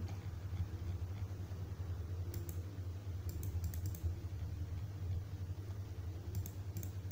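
Quick bursts of clicks from typing on a computer keyboard come in short irregular clusters, quiet above a steady low engine-like hum and rumble, with no talking.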